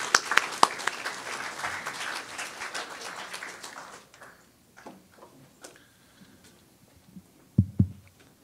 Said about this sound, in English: Please give a round of applause to the drafting committee and Professor Michael